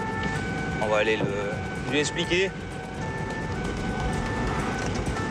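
A French gendarmerie car siren wails on a motorway during a pursuit, with two-tone sweeps rising over steady road and engine noise while someone speaks.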